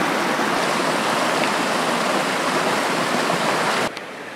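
Mountain creek in Alberta wilderness rushing over rocks, a loud, dense, steady wash of flowing water close by that cuts off abruptly just before the end.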